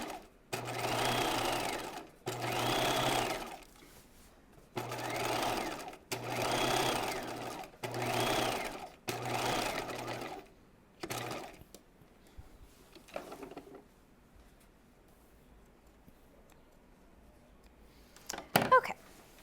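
A sewing machine understitches the seam allowances on a raglan top, running in six or seven steady bursts of a few seconds each, close and loud, before falling quiet.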